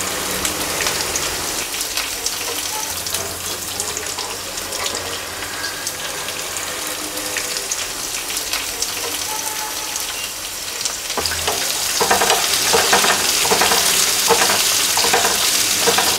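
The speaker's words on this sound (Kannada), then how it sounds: "ಈರುಳ್ಳಿನ ಫುಲ್ಲು ಒಂದ್ಸಲ ಹಿಂಗೆ ಕೈ ಆಡಿಸಿದ್ಮೇಲೆ ಅದು ಫುಲ್ಲು ರೆಡ್ ಕಲರ್ ಬರೋ ಥರ ಫ್ರೈ ಮಾಡ್ಕೊಳ್ಳಿ" Onions and garlic frying in hot oil, a steady dense sizzle with stirring scrapes throughout, growing louder and brighter with rapid crackling in the last few seconds.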